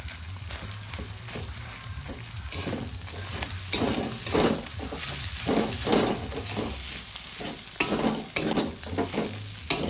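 Potatoes frying with cumin and chili powder in a pan, a constant close sizzle with repeated scraping stirs that grow louder and busier as cooking goes on.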